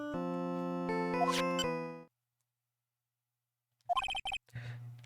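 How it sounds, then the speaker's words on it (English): A melodic phone ringtone from the Ace Attorney video game plays for about two seconds, then silence, followed by a short burst of electronic beeps and tones. "What kind of ringtone is that?"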